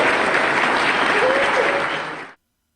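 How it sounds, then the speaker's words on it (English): Audience at the Chaos Cup 2023 Blood Bowl tournament breaks into loud, dense applause, steady clapping from a crowd that fades and cuts off abruptly after about two seconds. "So give yourself a round of applause."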